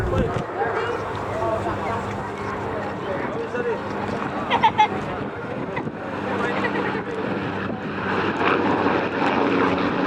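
A Royal Navy Westland Wessex HU5 helicopter dating from 1966, displayed at the RAF Cosford Airshow 2022, gives a steady engine and rotor drone while someone commentates over it.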